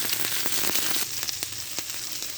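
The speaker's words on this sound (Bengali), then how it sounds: "শালগমের বড়িগুলো ভেজে নিলাম।" Turnip vadis, dried lentil dumplings, frying in a little oil give off a loud, steady sizzle dotted with quick crackles and pops, with no voices.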